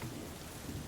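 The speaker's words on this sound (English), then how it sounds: "Didn't expect a downpour." A steady, dense downpour of rain, a continuous broadband hiss with a low rumbling undertone, loud and unbroken throughout the brief moment, with no voices.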